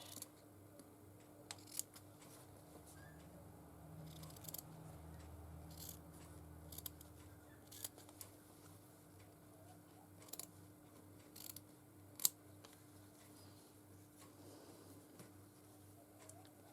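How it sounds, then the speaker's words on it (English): Scissors snipping through thick upholstery-type fabric cut from an old tablecloth to make leaf shapes, a few quiet scattered clicks and cuts over a faint hum, no talk. "Now I like the different colour leaves, so I'll cut some of those out."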